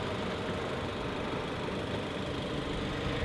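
A 2016 Jeep Cherokee's 2.4-liter MultiAir Tiger Shark four-cylinder with direct injection runs steadily at idle, a continuous even hum with no voices over it.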